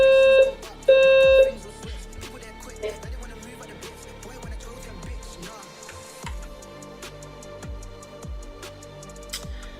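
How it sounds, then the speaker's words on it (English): Building fire alarm under test: two long steady electronic tones near the start, then repeated lower sounder pulses and a continuous tone carrying on in the background of an indoor room. "they're testing the fire alarms"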